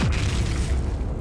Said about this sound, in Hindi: ये धमाका तो बहुत बड़ा है।